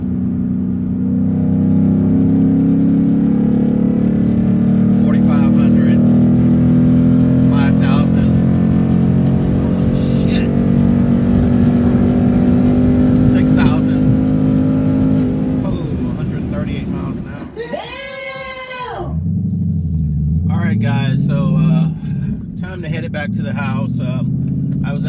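A Ford Mustang Bullitt engine pulls hard in fourth gear, its deep rumble rising steadily in pitch for about fifteen seconds before the revs drop with a shift and settle, loud and close from inside the car, with someone talking over it.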